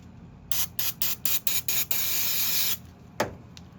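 Several quick hissing bursts from a spray bottle of cleaner aimed onto a rag, followed by one longer continuous spray and a faint clack afterward, during cleaning work on a 2011 Toyota Corolla.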